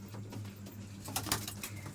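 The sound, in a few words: pigeon cooing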